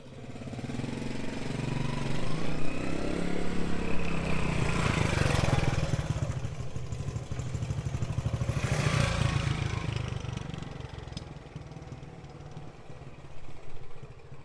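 A restored Yamaha Townmate motorcycle runs along a driveway, its small engine swelling louder twice as it passes close, then dropping back to a quieter, steady idle.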